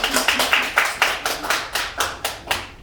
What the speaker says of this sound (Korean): 이럴 때 큰 박수 쳐줘야 돼.